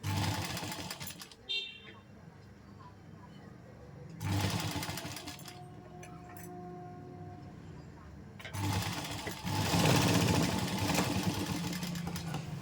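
A sewing machine stitches cloth in two loud, steady mechanical bursts of rapid needle clatter, separated by a quieter stretch while someone talks.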